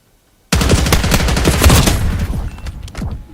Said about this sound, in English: Shooting at me right now